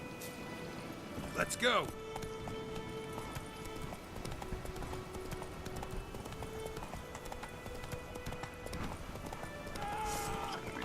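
Roach, a horse in the video game Witcher 3, gallops in a steady rhythmic clip-clop that runs throughout, with a brief whinny near the start and someone talking over the hoofbeats.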